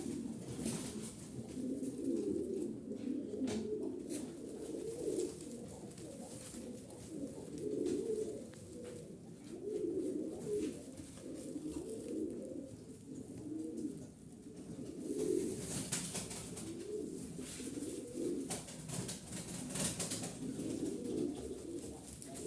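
Pigeons cooing steadily in soft, low, rolling calls that overlap throughout, with a constant background hum and occasional rustles.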